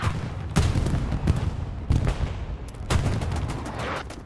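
Artillery fire in the World War II shooter Hell Let Loose on the Omaha map, a series of loud, booming blasts at irregular intervals, each with a rumbling tail, heard alone.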